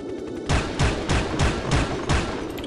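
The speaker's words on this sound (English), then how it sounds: "Those are AA guns. That are turning around to shoot me." Anti-aircraft guns fire in the video game Soldier of Fortune, a loud run of booming shots in a quick, fairly even rhythm.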